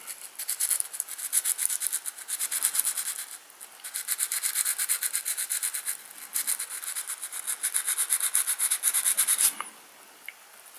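Paint is rubbed off the surface of an etched metal plate in quick, rhythmic back-and-forth strokes, a close, dry, scratchy scrubbing that comes in bursts with short pauses and stops near the end.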